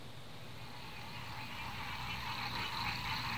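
A chorus of frogs croaks at a farm pond, a dense continuous trilling that swells slightly and stays moderately distant, with no talking.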